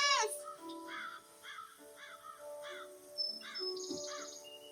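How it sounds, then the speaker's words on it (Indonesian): A crow caws outdoors in a repeated series of harsh, nasal calls at moderate distance, with faint insect chirring in the background and no speech. "lihat burung itu"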